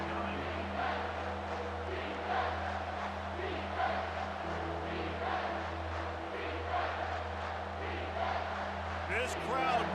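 Stadium crowd noise from an Auburn Tigers vs Alabama Crimson Tide game in College Football 25, a steady roar of cheering with swells, under continuous play-by-play commentary and a constant low hum.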